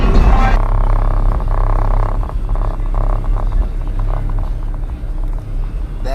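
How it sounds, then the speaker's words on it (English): A lowered, slammed car's engine rumbles at the Slamology car show in the rain, a loud low idle with uneven throbbing pulses, steady near the listener. "That's how my car sounds here at Slamology."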